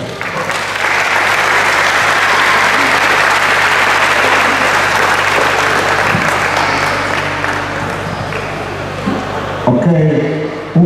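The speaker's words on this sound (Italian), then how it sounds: "un grosso applauso" An audience at a slalom racing event applauds loudly and steadily for about ten seconds before the clapping cuts off abruptly and a voice begins speaking over an amplified sound system.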